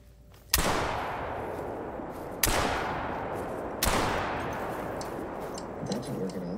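Shotgun blasts aimed at ducks in the hunting video game Call of the Wild: three loud, sharp reports spaced a second or two apart, each trailing off in a long rumbling echo.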